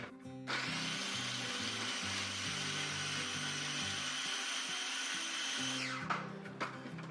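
A food processor blitzes nuts into a paste, a loud, steady whirring motor roar that runs for about five seconds before cutting out, with some clatter and rattling afterwards and no talking.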